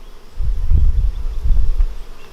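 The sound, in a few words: honey bee swarm buzzing around hives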